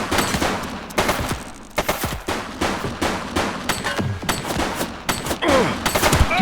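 Gunfire in The Precinct, a police video game, comes as loud, dense bursts of rapid shots in irregular clusters, near and continuous with no clear voices over it.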